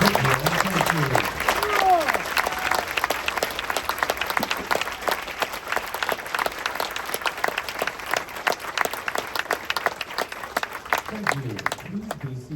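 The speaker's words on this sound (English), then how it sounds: "A round of applause for their dedicated service to our country." A crowd at a Marine Corps Recruit Depot San Diego graduation applauds Marines, long sustained clapping across the whole span, with a voice talking briefly at the start and again at the end.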